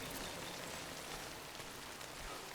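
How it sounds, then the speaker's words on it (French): Rain falling in the video game Death Stranding, a soft, dense, even patter of drops with no voices. "là je suis sous la pluie et la pluie c'est ce qu'il y a de pire"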